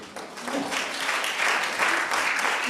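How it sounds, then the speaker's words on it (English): An audience at an outdoor opening-remarks event gives steady, dense applause, a broad continuous wash of many hands clapping at fairly close range. "And a round of applause for you,"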